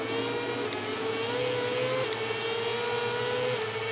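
A racing motorcycle braking in the video game MotoGP 18, a steady engine whine with the pitch shifting slightly under deceleration, loud and continuous for four seconds with no voices.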